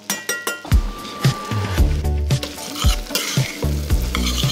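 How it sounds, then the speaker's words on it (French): Small onions sautéing in melted butter in a pan, giving a steady sizzle broken by repeated stirring scrapes and clinks of the utensil against the pan, close and loud, with no voices. "les petits oignons on les fait revenir"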